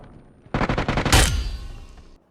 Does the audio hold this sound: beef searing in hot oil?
no